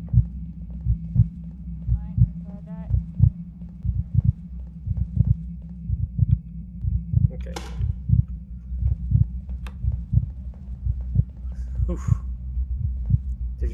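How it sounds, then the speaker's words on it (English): A steady heartbeat thumps in a horror video game, low and regular throughout with a persistent hum, while a person talks over it. "I can't even get the heartbeat out of my fucking ears"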